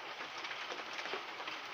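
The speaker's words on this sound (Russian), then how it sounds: "Такой вот град." Large hailstones fall hard in a storm in Altai Krai, a dense, continuous roaring patter that stays steady and fairly loud throughout, with no voices.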